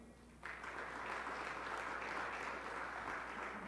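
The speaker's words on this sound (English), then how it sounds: "Let's give him a round of applause" An audience at a Buffalo jobs announcement breaks into applause for a district council member, the dense clapping starting abruptly after a brief quiet and holding at an even, moderate level.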